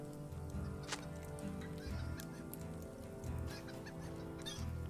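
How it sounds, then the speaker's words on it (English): Chickens clucking in the Lord of the Rings Online video game, a run of short repeated clucks over a low game ambience with occasional clicks, moderately near and fairly quiet. "Chickens!"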